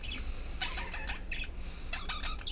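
Pet budgerigar chicks chirp in short bursts of high, scratchy chatter, a few clustered calls close by over a low background hum.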